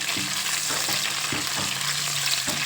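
Green chillies frying in hot oil for a curry with eggplant, giving a dense, continuous sizzle close by, with a few soft stirring knocks at intervals.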